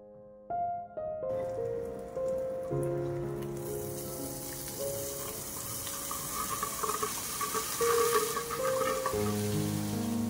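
Sweet boondi batter made from gram flour drips through a ladle into hot oil, giving a steady, close hissing sizzle that builds and fills the scene over a low musical tone.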